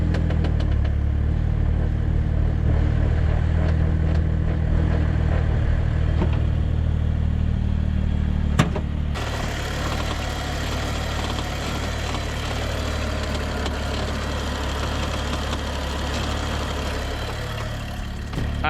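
A 2011 BMW with a squeaky loose steering column, the engine running at a steady mid-low rumble with faint clattering and light squeaks, close by. A brief knock midway drops the sound level, and no one speaks.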